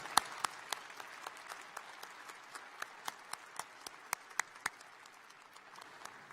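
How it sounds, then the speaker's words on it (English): Applause for a commencement speaker at an Iowa State University fall ceremony: a quiet, thinning patter of hand claps, with a few sharper individual claps standing out near and far. "Another round of applause for Kara Hayden."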